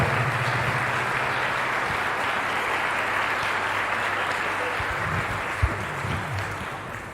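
An audience at an evening Lenten talk on life's crises applauds in a sustained, even wash of clapping that holds steady before tapering slightly near the end.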